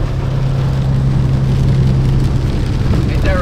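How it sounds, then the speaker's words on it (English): Heavy rain storm pounding on a ranch tow truck, a steady dense wash of drumming close around the cab throughout, with a low engine hum underneath. "We're actually in the storm, folks."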